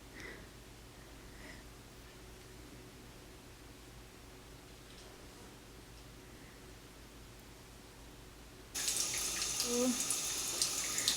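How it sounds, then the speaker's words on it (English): Cold water runs and splashes as a face is washed with a natural bar of soap. It follows a long near-silent stretch and arrives abruptly as a steady, fairly loud wash in the final seconds. "I wash my face using the natural bar of soap and cold water"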